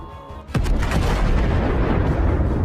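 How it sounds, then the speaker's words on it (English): A drone strike on a Russian self-propelled gun near Avdiivka sets off a powerful explosion. One sharp, loud blast is followed by a long, heavy rumbling roar that carries on to the end. "A powerful explosion."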